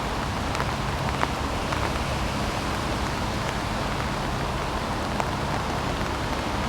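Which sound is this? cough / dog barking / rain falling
rain falling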